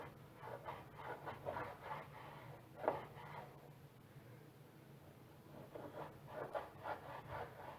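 Knife slices through streaky bacon into strips on a board, giving soft, faint rubbing and scraping strokes in short bursts.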